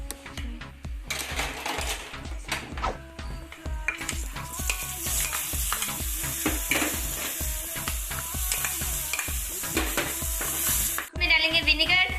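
Capsicum and tomato stir-frying in a pan with chicken macaroni: rapid rhythmic scraping and tapping of a utensil over a constant loud sizzle, near and busy, with a brighter hiss toward the end.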